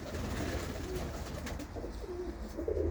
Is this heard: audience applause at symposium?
no